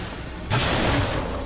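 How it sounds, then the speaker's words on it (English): A turret fires rockets in BioShock Infinite, a sudden loud blast that erupts and rumbles on with a sustained roar after a brief quieter moment. "Oh, your turret's shooting rockets."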